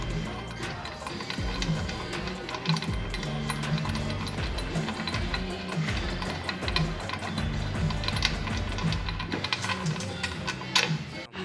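Transmission bolts on a 2014 GMC Sierra being loosened by hand with a ratchet, giving a rapid, continuous clicking and ticking of the pawl close by, set over a steady mechanical background hum.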